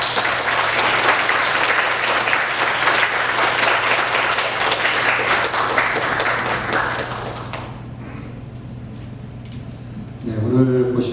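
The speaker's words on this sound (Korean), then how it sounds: "잠깐 일어나시면 저희가 박수로 하겠습니다" A church congregation applauds visiting members at a Sunday service, dense steady clapping filling the room for about seven seconds before tapering to scattered claps and quiet murmurs.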